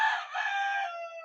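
A rooster crows on a farm, one brief, fairly faint, drawn-out call heard alone.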